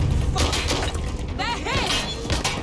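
Frag grenade explosion in the action game Watch Dogs Legion, a loud crashing burst with shattering debris, dense and close amid continuous game audio and a chirping electronic sound.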